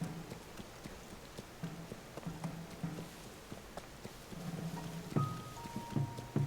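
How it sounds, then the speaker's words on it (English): Rain falls in the video game Tears of the Kingdom, a faint, soft patter of scattered drops with occasional louder taps, joined late by a few quiet tonal notes. "Rainy."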